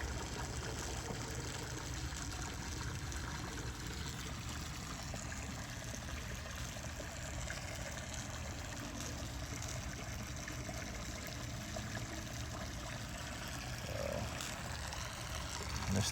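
Water churns steadily in an aquaponic tank, a continuous close rushing and bubbling wash with a low pump-like rumble underneath, unchanging throughout.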